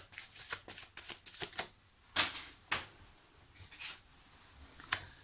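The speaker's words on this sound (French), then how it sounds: "je vais quand même sortir 2-3 cartes supplémentaires pour ça." Tarot cards being drawn and shuffled from a deck, a run of quick papery snaps and slides, then a few separate crisp flicks spaced apart, close and fairly quiet with no talking.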